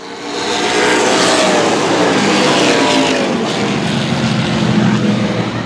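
A pack of race cars at Central Texas Speedway roars off at the start, a loud, dense wall of overlapping engines that swells quickly and holds steady, with no voices.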